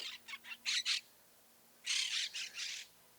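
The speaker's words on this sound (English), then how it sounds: "The parrots are back." Small parrots near a golf course give two bursts of harsh, raspy squawks and chirps, a quick run of four calls followed after a pause by another cluster, fairly close and clear over quiet background.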